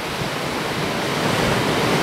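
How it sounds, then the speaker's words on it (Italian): Rough Atlantic ocean waves pound the beach at Nazaré, a loud, continuous roaring wash of surf with wind noise, unbroken and with no voices. "il mare è mossissimo cioè qua è, vabbè, è proprio oceano perciò anche la spiaggia è stupenda"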